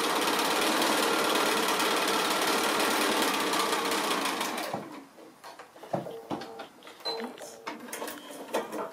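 A sewing machine stitches a sailboat pin cushion in a fast, continuous whir for about five seconds, then stops. Quieter clicks and handling noises follow as the fabric is adjusted.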